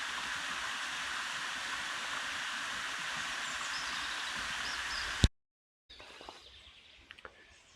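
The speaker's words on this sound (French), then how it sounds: "Peut-être que vous entendrez l'eau aussi." A small waterfall in the Ricou quarry rushes steadily as a broad, constant water roar, with birdsong above it, before it cuts out abruptly and a quieter outdoor ambience with faint chirps follows.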